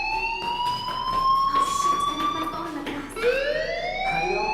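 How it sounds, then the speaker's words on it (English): A fire alarm rings in the video game Life Is Strange as a loud wailing tone that rises in pitch, breaks off briefly and starts again. "do you hear that fire alarm? That means you should be outside."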